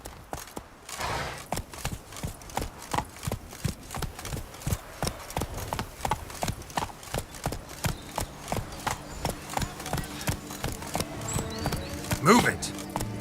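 Hooves of a galloping horse in The Witcher 3: Blood and Wine clip-clop in a fast, steady rhythm for the whole stretch, close and clear, while a rider urges it on and a brief whinny rises near the end.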